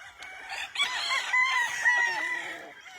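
A rooster on a Philippine gamefowl farm crows loudly and close, a single sustained cock-a-doodle-doo with a few clucks around it and no talk.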